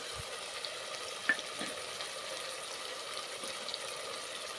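Tomatoes with turmeric fry in a pan for egg biryani, a steady soft sizzle with a few faint stirring clicks, quiet and unbroken throughout.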